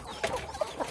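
Chickens let out to feed on a banana-stem livestock mash give a few short, soft clucks at close range over quiet background noise.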